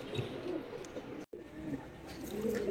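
Pigeons on a farm of giribaz and racer birds coo in a low, throaty murmur, close and steady, with a brief silent gap midway.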